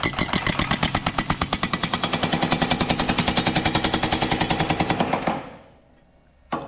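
A power hammer pounds sheet metal during thumbnail shrinking, a rapid steady train of loud close metallic blows that winds down and stops, followed by near silence.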